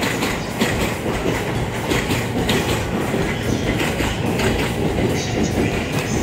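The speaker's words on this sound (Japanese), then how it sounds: "特急湘南4号始発の特急が出ていった" The Shonan No. 4 limited express, a 14-car commuter train, pulls away from a station platform in the morning: loud steady rolling rumble with rhythmic wheel clatter over rail joints, close by, with no talking.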